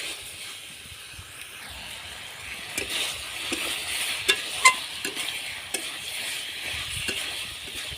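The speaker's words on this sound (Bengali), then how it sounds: "আবারও খুব ভালোভাবে নাড়াচাড়া করে খুব ভালোভাবে কষিয়ে নিতে হবে।" Potatoes with coriander being stirred and sautéed in a pan, soft crackling sizzle with scattered scraping and clicks from the spatula, moderately quiet and close.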